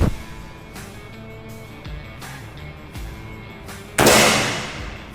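A single sharp shot from a PCP Ghost Warrior DB 300 air rifle cracks loudly near the end, followed by a hissing decay, after a few faint clicks and knocks.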